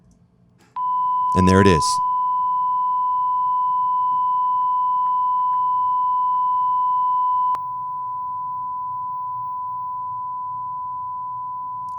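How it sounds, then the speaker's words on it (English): A steady 1000 Hz sine test tone fed through a CTP Systems DbBox audio system sounds continuously, shifting slightly in level partway through, after a brief burst of speech at the start. "I'm just feeding a 1000 hertz tone to the system"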